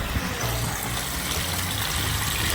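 Water gushes steadily to fill garden beds in the morning, a continuous close rushing flow with no voices.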